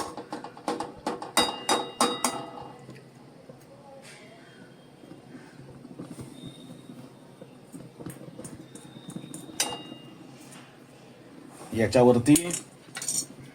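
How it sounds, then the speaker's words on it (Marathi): A Malabar spinach vegetable dish is stirred and sautéed with salt in a pan, with brisk metallic scraping and clinks near the start and end and quieter pauses between, while a voice speaks briefly. "हे मीठ असं या भाजीला लागेल असं परतून घेतो"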